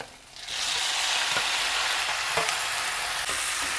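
Small onions fry in a pan with a loud, steady crackling sizzle that swells up quickly and holds, with a few faint stirring clicks and no talking.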